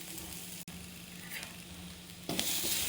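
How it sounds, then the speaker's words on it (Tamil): Grated coconut sautéing in ghee in a hot kadai gives a steady, soft sizzle that swells louder near the end, with a brief dip early on. "ஒரு கடாயை வச்சு சூடானதும் நெய் சேர்த்து அந்த தேங்காயை இதில் போட்டு வதக்கிடுவோம்"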